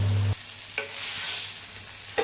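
A pizza paratha roasts on a hot tawa, a broad, steady sizzle heard up close, punctuated by a few brief scraping or pressing contacts and a low hum at the start, with no voices.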